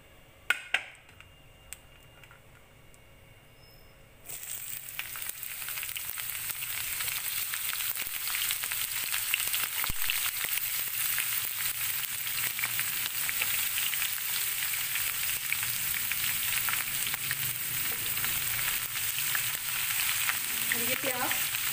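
Onion dropped into hot oil for tempering a whole black masoor dal, with cumin and dried red chillies: a quiet start with a few clicks, then a sudden loud sizzle that holds steady and close, no speech.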